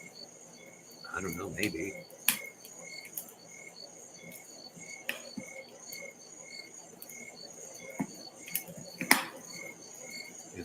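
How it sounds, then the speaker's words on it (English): Crickets and frogs chirp and croak steadily on a summer night, a dense, faint chorus of high pulsing trills beside a fire, with a brief quiet voice speaking and a few sharp crackles. "If the fire's too loud or the crickets or anything, let me know."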